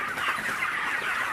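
Roosters cluck together on a poultry farm holding about 1600 birds, a dense and continuous chorus of overlapping clucks that stays moderately loud and has no talking.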